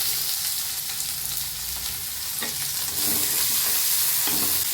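Mustard seeds, urad dal, chana dal and onion fry in hot oil with a constant loud sizzle, close up, and a few stirring scrapes of a spoon in the pan.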